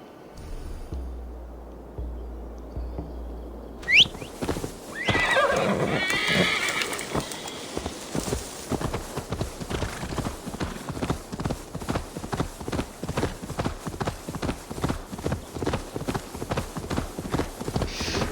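A horse in Assassin's Creed Valhalla whinnies sharply, then hooves pound in a fast, steady galloping rhythm that continues to the end.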